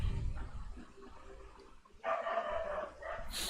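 Somewhere in the house a dog gives sustained, whining barks, moderately loud and drifting, starting after a low thump and pausing briefly before resuming.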